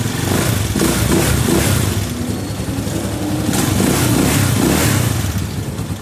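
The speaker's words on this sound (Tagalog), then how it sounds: "Yan, okay na pre yung starter. Gumagana na." A Skygo 175 motorcycle engine, just fitted with an electric starter, runs close and loud with a rough, clattery idle that rises and falls as it is revved.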